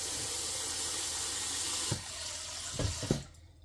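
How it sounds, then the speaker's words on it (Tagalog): Tap water running into a cooking pot for sinigang, a steady close rushing hiss for most of the stretch, then a few knocks and clunks as the flow is shut off and the sound falls away. "Ito, lagyan ko ng tubig."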